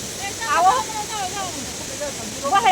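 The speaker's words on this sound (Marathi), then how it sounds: "इतका धबधबत आहे बघा सगळं इकडं" The constant rushing roar of Thoseghar waterfall fills the background while a person talks over it.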